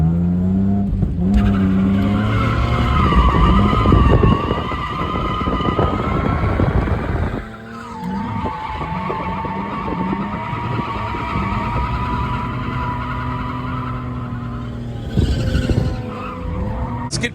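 Holden Commodore and Ford Falcon drift cars slide around a skid pan at Winton with sustained tyre squeal over roaring, revving engines, loud and close, the screech shifting pitch as the cars change direction.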